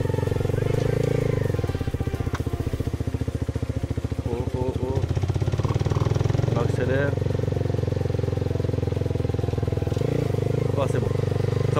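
A Honda CBR 125 motorcycle engine drones loudly and continuously while riding, with a steady buzzing pulse that rises and eases as the throttle changes. A rider talks over it throughout.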